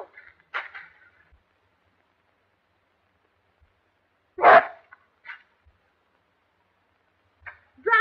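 A dog tearing at a handkerchief in a 1933 film barks in a few short, sharp bursts separated by quiet gaps, fairly close and loud, with no talk over it.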